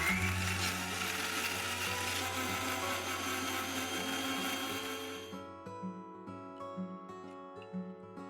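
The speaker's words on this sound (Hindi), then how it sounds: "इसे अब हम पीस लेते हैं।" A mixer grinder blends spinach idli ingredients with curd into a fine paste, producing a loud, steady, whirring roar for about five seconds before it cuts off, leaving only quieter tonal background sound.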